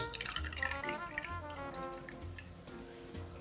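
Darjeeling tea poured into a bourbon cocktail with cranberry, a short, soft trickle of liquid close by, with faint dripping and no talk.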